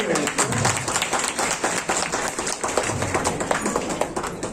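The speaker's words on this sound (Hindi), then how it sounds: "जोर से तालियां बजाइए।" An audience claps loudly at a badgotiya family celebration at Royal Retreat in Sambalpur, a dense run of hand claps lasting several seconds with voices talking over it.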